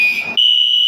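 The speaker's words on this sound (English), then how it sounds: "these folk keep setting the darn fire alarms off" A building fire alarm sounds a loud, continuous high-pitched electronic tone, briefly under a voice at the start and then alone at full volume.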